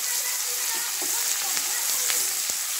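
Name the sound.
stirring and frying upma ingredients in a pan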